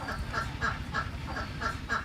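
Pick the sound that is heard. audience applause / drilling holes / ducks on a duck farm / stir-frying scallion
ducks on a duck farm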